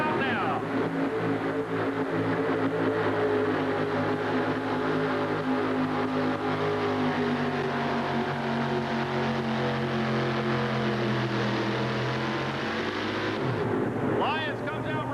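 A GMC pulling truck engine roars loud and sustained at an indoor tractor pull in Indianapolis, its pitch rising and holding under an announcer's commentary before dropping off near the end.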